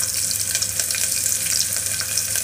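Fennel seeds and small onions fry in hot oil for chicken kolambu, giving a steady close crackling sizzle with tiny pops throughout and no voices.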